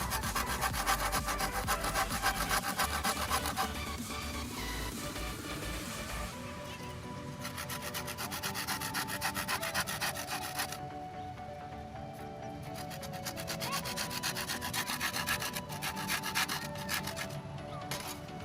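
Rough scraping and rubbing of a tool against bamboo as holes are worked into the segments of a traditional stilt, a continuous gritty rasping that shifts in intensity, with no voices.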